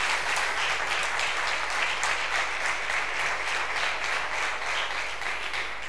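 An audience at a science fair closing ceremony in Almonte gives a steady, dense round of applause, continuous and even throughout, heard from within the hall without talking.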